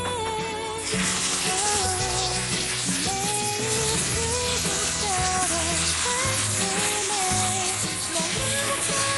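Steady crackling sizzle of chicken steak frying in a hot pan, continuous and close, with faint kitchen clatter underneath.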